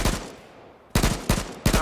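Gunshots in the video game H1Z1: one loud shot at the start, a short quiet pause, then three more sharp, close shots spaced evenly apart, with no voices.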